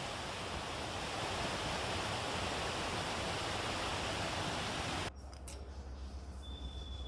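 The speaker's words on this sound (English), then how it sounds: "Made it to the waterfall." A waterfall roars as a loud, steady wash of rushing water at the end of a long hike past rapids and rocks, then cuts abruptly to a much quieter outdoor ambience.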